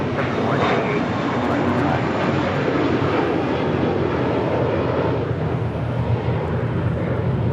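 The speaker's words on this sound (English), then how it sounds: "departing to Boston, JetBlue Airways, Flight 188. It's an A321." A JetBlue Airbus A321 departing Los Angeles International Airport for Boston, its engines a loud, sustained roar that swells early and stays strong and close.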